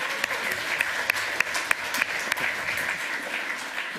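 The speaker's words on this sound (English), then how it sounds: "So give him a round of applause" Audience applause fills a hall at a lightning talks session, a steady wash of many hands clapping with a few sharper individual claps standing out, moderately loud and continuous for about four seconds.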